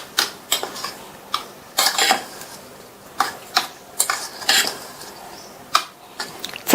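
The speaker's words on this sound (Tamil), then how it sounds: "இப்ப இதை நல்லா மிக்ஸ் பண்ணி விட்டுறலாம்." Utensil clatter and scraping against a bowl as hot steamed puttu is stirred together with sugar and grated coconut, in irregular sharp knocks and scrapes, fairly close.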